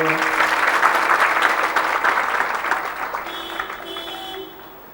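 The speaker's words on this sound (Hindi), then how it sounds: "ताली बजाओ" An audience at a Hindi spiritual gathering claps together in a thick, sustained round of applause that gradually thins and fades out toward the end.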